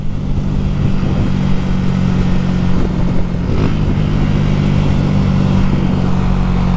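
A Honda Titan 150 motorcycle rides along a highway with its engine droning loud and steady throughout, close up, blended with constant wind rush.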